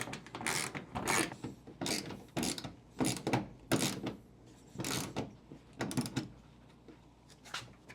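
A ratchet wrench tightens a 10 mm bolt on a mud flap of a Ford F150 Lightning pickup, heard as about ten short bursts of rapid clicking separated by brief pauses, close and clear with no talking.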